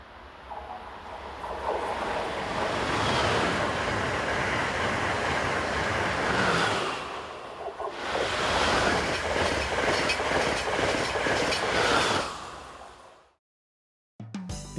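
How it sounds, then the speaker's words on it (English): Amtrak express passenger train running from Washington to New York on the Northeast Corridor, a loud steady roar of cars rushing past with clickety-clack wheel rhythm, easing briefly midway, then cutting off abruptly. "Our last scene here will be a Cellar Express 2164, the 1210 from Washington to New York"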